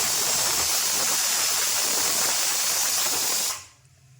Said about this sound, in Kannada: ನೋಡಿ, ವಿಸಿಲ್ ಬರ್ತಾ ಇದೆ ಇವಾಗ.